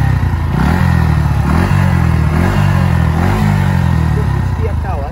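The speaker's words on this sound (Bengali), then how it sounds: "এইটা হচ্ছে বাইকের এক্সস্ট। যদি হালকা রেভ করি" A 2022 Bajaj Pulsar NS125 BS6 motorcycle exhaust idles loudly up close and is blipped in several short revs that rise and fall, with a person talking over it.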